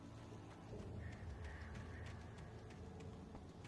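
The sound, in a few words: birds in video game Alan Wake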